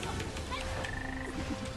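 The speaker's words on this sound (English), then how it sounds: "Oh, the frogs are coming." Frogs croak during a boss fight in the video game Dragon Nest's Arendel challenge nest: short croaking calls over steady in-game background noise and tones.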